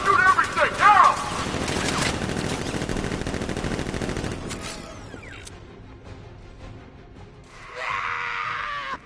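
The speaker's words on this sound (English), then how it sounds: "Guns! Open fire! Shoot everything!" Rapid automatic gunfire in the video game Arkham Knight, a dense and loud burst over the first few seconds that fades into quieter mechanical sounds, with a voice and a brief whooshing effect near the end.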